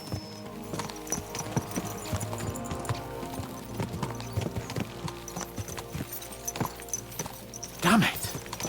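Horse hooves clip-clopping steadily in the medieval game Kingdom Come Deliverance II, layered under game sounds, with a brief louder burst near the end.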